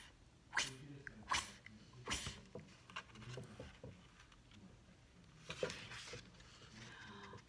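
A voice mimics a rotating lawn sprinkler with a series of sharp breathy ch-ch bursts in an uneven ticking rhythm, close and fairly quiet.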